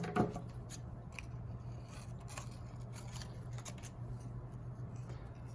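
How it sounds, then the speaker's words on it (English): Scissors snip small paper circles for a collage, a string of quiet, close crisp cuts and paper rustles over a low steady hum. "You cut in these small circles, you have to really watch your fingers."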